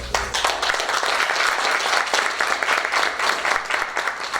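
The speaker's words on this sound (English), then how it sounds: "we're going to give you a round of applause" At a school district board meeting, the audience gives staff a round of applause, continuous clapping from many people that stays fairly even in loudness across the few seconds.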